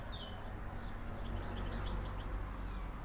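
Birds chirp and trill in short scattered bursts against a soft, steady outdoor background hum, fairly faint and distant, with no talking.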